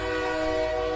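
A train at a railway station sounds a steady, loud, sustained horn blast that holds an even tone from start to finish, with no voices.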